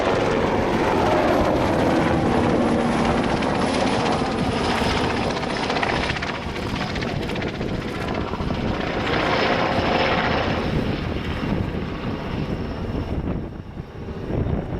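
An NH90 military helicopter roars close by in a flying display as its rotor thumps and its engine whines. The pitch shifts as it banks and maneuvers through wingovers. No talking.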